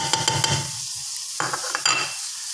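Tomatoes, onions and curry leaves frying in oil for a broken-rice biryani, close sizzling with clinks and scrapes of a spoon stirring against the pan in two short bursts separated by a quieter pause.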